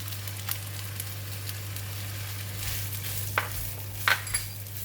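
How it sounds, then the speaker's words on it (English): Pork balls and frozen vegetables fry in about a tablespoon of oil, a soft steady sizzle with a few sharper pops and stirring scrapes near the end, fairly quiet and with no voices. "this time we're going to cook the pork ball and the vegetable."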